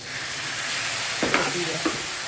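Masala mixture for kadhi sizzles in a hot pan under a steady frying hiss, with a couple of scraping stirs from a spoon near the end.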